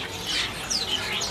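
Caged songbirds at a kiosk in the Pramuka bird market, with sharp high chirps and whistled calls repeating over a murmur of background noise.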